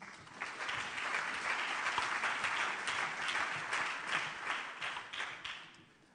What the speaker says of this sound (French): Je vous demande de bien vouloir applaudir et accueillir Patrick Mignon.